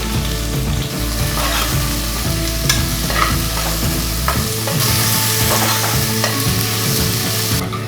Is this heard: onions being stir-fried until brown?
yes